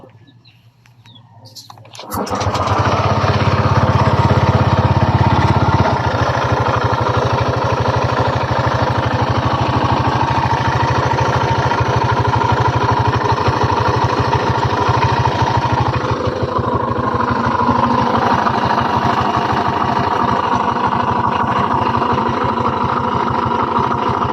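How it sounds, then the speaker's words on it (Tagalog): A Honda Click 125 scooter engine starts up after a brief quiet, then idles steadily and loudly with a fast rattling, ticking undertone from a worn side bearing running through it. "Tingin nyo saan nanggaling ang ingay ng kanyang makina?"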